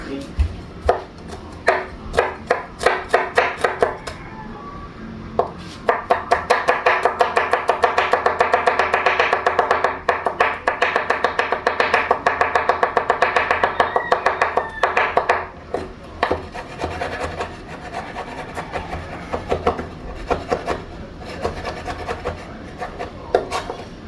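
Garlic is chopped with a knife on a wooden board in a home kitchen, producing rapid, rhythmic close-up strikes in dense runs with short pauses and a softer tapering flurry at the end.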